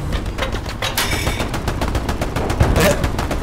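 Bursts of grease gun submachine gun fire crack out in a Hell Let Loose battle, rapid repeated shots in close succession over a busy battlefield background, fairly loud and near.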